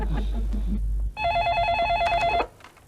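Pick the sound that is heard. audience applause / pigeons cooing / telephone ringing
telephone ringing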